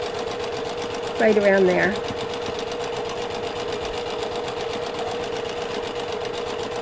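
A home sewing machine runs steadily, stitching around a fabric pocket edge on a small drawstring pouch. Its motor gives a continuous whirring hum with a rapid mechanical rhythm, while a person talks briefly over it.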